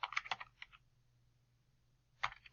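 Quick typing on a computer keyboard while working on a spreadsheet chart, with a short burst of several clicky keystrokes, a pause, then a couple more taps, close and fairly quiet.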